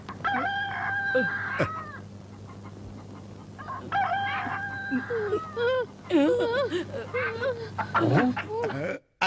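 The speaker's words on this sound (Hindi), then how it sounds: "तेरे पेट में मुर्गा बोल रहा?" A rooster crows in several drawn-out, wavering calls at close range, interrupted by clucks and brief gaps, with voices talking in between in a comic film scene.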